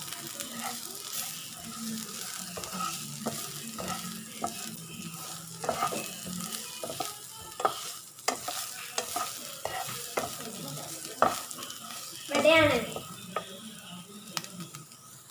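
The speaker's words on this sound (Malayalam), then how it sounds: "നമുക്കിതെല്ലാം കൂടെ നന്നായിട്ടൊന്ന് വഴറ്റിയെടുക്കാം" Prawn roast masala with Kashmiri chili and pepper powder sautés in a pan, a moderate steady sizzle punctuated by frequent scraping stirs and taps, with one louder burst of stirring toward the end.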